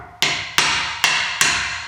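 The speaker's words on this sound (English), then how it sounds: "By hitting on the pointy end of the nail, the back comes out of the wood" A hammer striking the pointed end of a nail to drive it back out of a piece of wood: four sharp, loud blows at an even pace, each leaving a short ringing decay.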